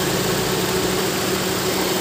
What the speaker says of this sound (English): pagka nagkakalog tayo, yung tensioner na yan gumagalaw. Kaya nagbabibrate. Kaya nag-iingay, nagkukos na ingay.